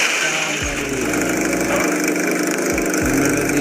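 Motorbike engine in a mobile shooter game, a loud, continuous buzzing drone with a few quick revving dips, alone without any talk.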